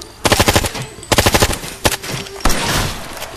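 Automatic gunfire from the video game Ghost Recon Future Soldier rattles in two quick bursts followed by single loud shots, close and sharp over a background hiss.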